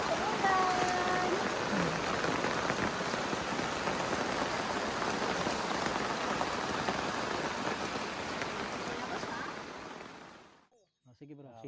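Heavy rain pours down at a riverside campsite, a dense, loud hiss of drops on surfaces that continues steadily before cutting off abruptly near the end, with brief voices in between.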